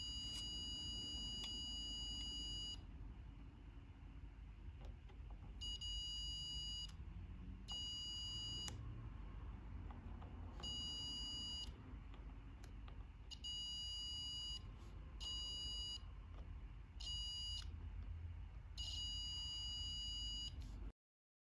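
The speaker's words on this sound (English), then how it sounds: "We should hear a buzzer sound while testing in that node." Multimeter continuity buzzer on a lab circuit node, sounding as a string of sharp, loud electronic beeps in irregular bursts of varying length over about twenty seconds, with a low background hum underneath and no talking.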